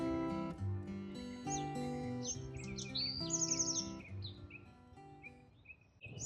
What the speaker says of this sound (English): And listen to those birds.